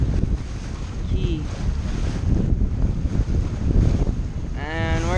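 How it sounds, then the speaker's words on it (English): Strong wind roars across the microphone aboard a Catalina 27 sailboat under full sail, with water rushing along the hull in a steady, loud wash and a brief whistling tone near the end. "Got pretty good wind, we're going whole speed."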